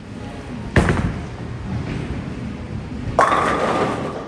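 At a bowling alley, a bowling ball is thrown down the lane with a heavy thud on release, a low rolling rumble, then a second louder crash of impact near the end.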